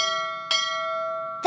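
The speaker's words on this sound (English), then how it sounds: "That's three bells." A bell in a children's cartoon, set by a boat dock, strikes three separate times, each clear ringing tone lingering and fading before the next.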